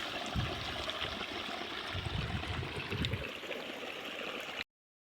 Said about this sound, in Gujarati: ફાઇનલી ભાઈ પાણી ચાલુ કરી દીધું